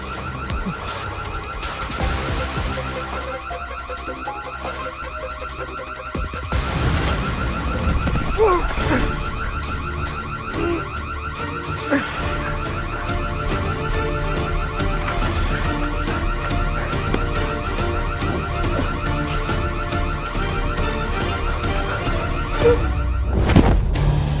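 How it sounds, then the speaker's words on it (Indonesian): A car alarm blares continuously with repeating tonal wails and beeps, loud and close, steady for the whole stretch with some clatter underneath. "Suara alarm."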